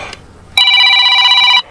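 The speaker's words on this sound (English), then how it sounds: "There goes the phone." A telephone at a workplace in Sunderland rings once, a loud, bright electronic trill that lasts about a second and then stops abruptly, close by in a quiet room.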